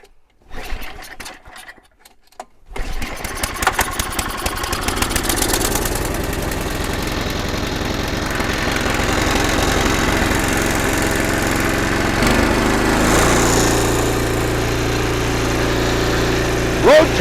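An old snowblower engine, about 25 years old, sputters through a few pull attempts, then catches and runs steadily at a loud, close idle with a constant mechanical drone and no talk over it.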